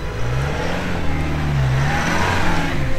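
A Toyota Land Cruiser 2.8 engine revs steadily during off-road driving, a loud, sustained mid-pitched drone that rises and falls slightly without a break.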